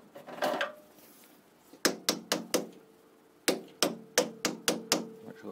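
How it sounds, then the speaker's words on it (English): A light hammer taps a workpiece in a workshop, giving two quick runs of sharp, ringing metallic taps, four and then six strikes, close and clear after a brief murmur. "Give that a little tap."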